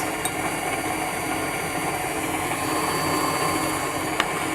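An electric hand mixer creams chocolate cake batter with a steady, unbroken whirring drone that holds for the whole stretch at an even level, with no talking.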